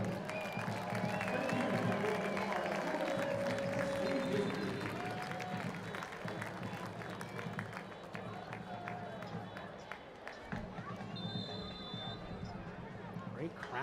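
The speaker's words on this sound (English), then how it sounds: "Great crowd out here tonight." A stadium crowd at a North Texas SC versus St Louis CITY2 soccer match on a summer night, a broad roar of cheering and applause from many spectators that slowly fades, with a commentator talking over it.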